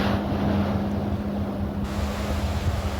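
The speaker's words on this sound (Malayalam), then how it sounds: "എന്നാലും ബോട്ട് വളരെ സ്പീഡിൽ പോയി" A boat races at high speed off Kozhikode beach, a steady low engine drone with strong wind rushing across the microphone and the wash of water, heard without talk.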